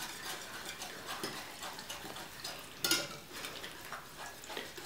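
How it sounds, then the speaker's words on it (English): A tomato-paste sauce for Hawaiian pineapple chicken is whisked, giving faint, soft scraping and tapping strokes at an uneven pace, quiet and close, with one brief louder clink near the middle. "So just carefully whisk this"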